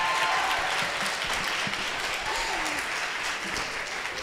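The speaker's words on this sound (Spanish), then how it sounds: "Un aplauso, por favor, para todas. ¡Bravo!" Steady applause from a crowd at a school skills evaluation event, dense clapping that fills the whole stretch with a faint cheer or voice rising briefly in the middle.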